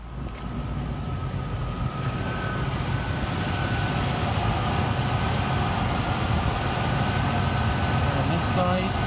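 Rover SD1 engine idling after carburettor tuning, a steady low rumbling drone that swells slightly early on and holds even, close up with faint whining tones above it.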